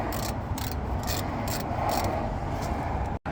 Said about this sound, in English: we'll get the 15mm socket on and we'll undo these manifolds